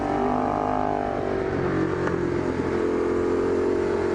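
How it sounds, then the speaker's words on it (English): A motorcycle rolls off the throttle on a canyon road along Angeles Crest, and the engine braking holds it back. The engine drone is loud, close and continuous, with a steady hum throughout. "Got a good amount of engine braking, so when I'm off the throttle it slows down on its own"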